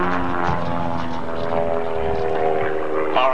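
Propeller-driven aerobatic airplane at the 1993 Reno Air Races, performing a display maneuver, with a steady, loud droning engine note that holds throughout, its pitch shifting slightly as the aircraft turns overhead.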